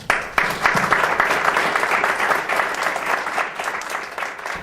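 Warm, steady applause from an audience at a book presentation during a formal event in Jalisco, a dense wash of many hands clapping continuously and evenly without pause.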